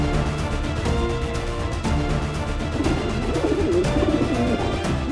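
A pigeon coos softly in low, rolling murmurs over a steady background hum, close by, with no one talking.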